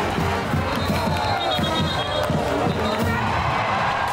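A big crowd at a college football game at Western in North Carolina makes a dense, continuous murmur of voices and cheers, with faint thumps and shouts mixed through it.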